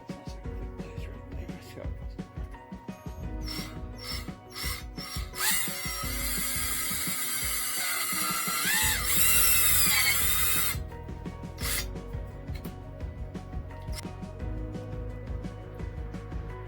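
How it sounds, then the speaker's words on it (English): A power drill whines for several seconds, rising in pitch as it bites into metal of a 1959 Edsel car door, with short clicks and handling noises before and after. "I'm just going to drill a hole like right here and put a screw right there"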